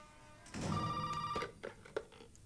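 A telephone in the video game Resident Evil 7 rings once with a short, bright electronic trill over a low background, followed by a few faint clicks and thumps.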